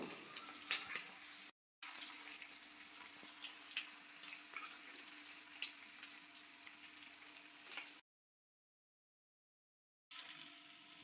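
Prawns frying in a pan for a Kerala-style prawn roast give a faint, steady sizzle with small crackles, broken by two short silent gaps.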